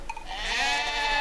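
A sheep bleats in a snowy wilderness, one drawn-out, wavering call heard close and fairly loud with nothing else around it.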